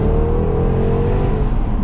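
A Jaguar XKR engine revs hard under acceleration, a loud, dense, continuous roar with rising pitch, heard close up from inside the car.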